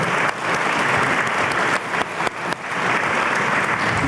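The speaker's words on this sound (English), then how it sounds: "Another round of applause for our panelists and Farah." A seminar audience applauds its panelists at a public affairs event, steady sustained clapping from a full room for about four seconds, with a couple of brief dips in intensity.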